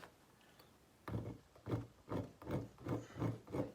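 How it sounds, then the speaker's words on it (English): A metal file is pushed across brass parallel with its grooves to clean them, making about six slow, rhythmic rasping strokes that are close and fairly quiet, with no talk. "I'm just going to start pushing, parallel with the grooves of that file"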